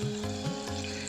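Turmeric fried in hot oil for kadhi, with a little water splashed into the pan, giving a dense, continuous bubbling sizzle at close range with no voices.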